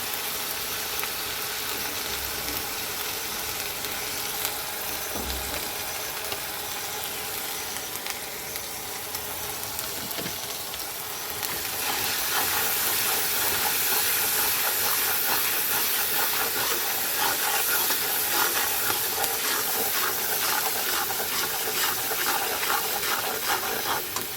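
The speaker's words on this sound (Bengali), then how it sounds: "তো মশলাটা কষানো হয়েছে" Spice paste with chilli powder, salt and turmeric sizzles steadily in a pan for a goat tripe curry, a continuous broadband hiss that grows louder and brighter about halfway through, with no talking.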